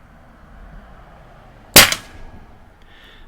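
A single rifle shot fired outdoors in freezing weather, one sharp loud crack that decays quickly with a short tail, set against a quiet background.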